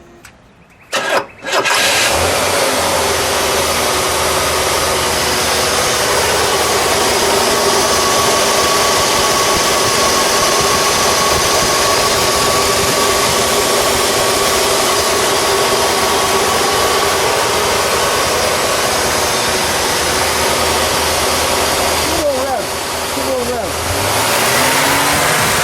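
The engine of a 1968 Cadillac Fleetwood Eldorado fires up after a few brief clunks and settles into a loud, steady idle with constant exhaust rumble, close by, for the rest of the stretch.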